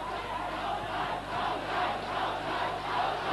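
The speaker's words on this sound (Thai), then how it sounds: "ตอนนี้กองเชียร์เขาสายจะลั่นสนามไปเลย" Boxing crowd in a stadium roaring and cheering at a Khaosai Galaxy versus Alberto Castro fight, a loud, continuous wash of voices with swelling surges and no clear speech.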